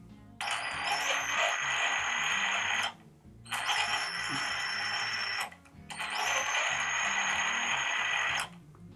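A RACECAR/J robot car's electric motor whines in three separate bursts of a few seconds each, driving forward and in reverse, with short quiet gaps between them and no talk.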